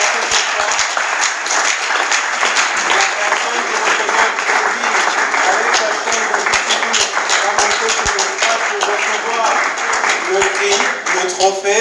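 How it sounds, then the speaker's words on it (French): Sustained applause from an awards-ceremony crowd, loud, dense clapping with crisp individual claps standing out, continuing steadily from start to finish with crowd noise and some voices underneath. "sous vos applaudissements"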